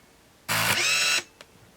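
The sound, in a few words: Canon Sure Shot Supreme 35mm film camera shutter release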